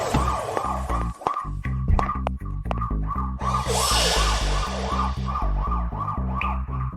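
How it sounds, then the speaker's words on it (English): An ambulance siren wails in a fast repeating electronic pattern, loud and close as it arrives, with a brief burst of broadband noise midway. "The ambulance is here."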